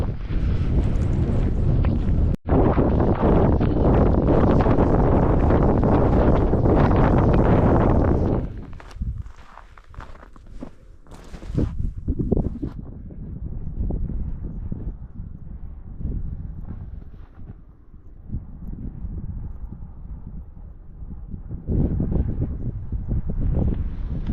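Strong wind buffeting the microphone on an outdoor run in hill country: a loud, roaring blast for the first eight seconds, then gusty, lighter rumbling with footsteps that swells again toward the end.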